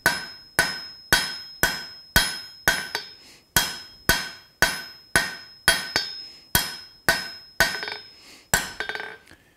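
Hammer forging a taper on a hot mild steel punch, drawing it out square then round: a steady series of about seventeen sharp, ringing metallic blows at an even rhythm, close and loud, with no talk.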